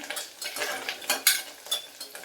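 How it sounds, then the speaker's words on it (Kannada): Chopped coriander leaves sautéed in a pan for tomato rice, a soft sizzle under quick scraping stirs of a spoon against the pan, close and brisk. "ಕೊತ್ತಂಬರಿ ಹಾಕಿದ್ರೆ 1 ನಿಮಿಷಗಳ ಕಾಲ ಬಾಡಿಸ್ಕೋಬೇಕು ಚೆನ್ನಾಗಿ"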